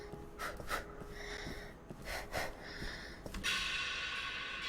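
Breathing sounds from the video game NaissanceE, a run of sharp in-and-out breaths and snort-like gasps over about five seconds, close and fairly steady, with a harsher hissing exhale near the end.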